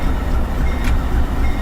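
A Run 8 simulator unit train rolls along the HSS SW route, giving a steady heavy rumble of wheels and cars with one short metallic squeal midway.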